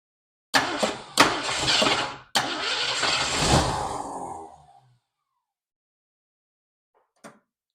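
A 1965 Ford Mustang engine cranks in a few loud, close bursts, then catches and runs roughly for a couple of seconds before dying away into silence, with one brief faint knock near the end.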